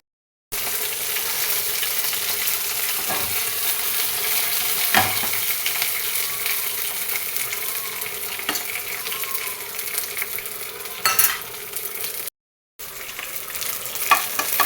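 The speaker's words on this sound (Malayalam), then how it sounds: "ഈ കറിവേപ്പിൻ്റെ ഇലയും കൂടെ ഒന്ന് വയറ്റിയെടുക്കുക കേട്ടോ" Curry leaves sautéing in oil in a clay pot give a steady, close sizzle throughout, with a few sharper crackles and pops and a short break near the end.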